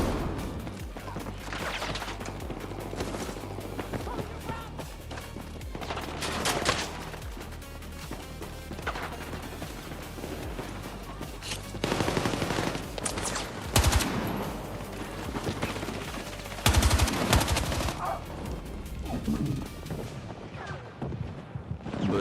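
Rapid automatic gunfire from the video game Battlefield 6, bursts of machine-gun fire and heavier blasts layered over constant in-game noise, loud and dense across the whole stretch.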